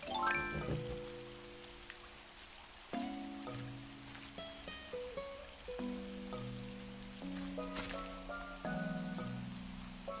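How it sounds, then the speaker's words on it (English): Rain in Animal Crossing: New Horizons on Survivor Island, a soft continuous patter of drops underneath gentle sustained background music tones, quiet and even throughout. "it's a rainy day here on Survivor Island"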